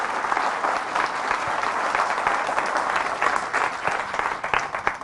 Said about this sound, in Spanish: Fuertes aplausos a la palabra de nuestro Señor